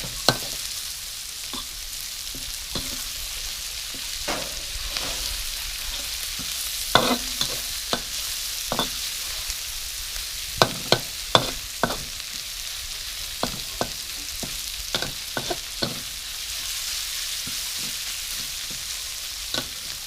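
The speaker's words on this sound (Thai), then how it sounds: "ผัดกะเพรา ผัดใส่กรอกครับ" Holy basil stir-fried with sausage and mixed meats in a wok, heard as a steady sizzle broken by repeated sharp scraping strokes of the spatula, close and alone with no talk.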